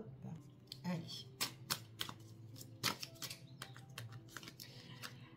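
Tarot cards shuffled by hand during a reading, giving a run of soft, irregular riffling flutters and snaps at close range over a quiet background.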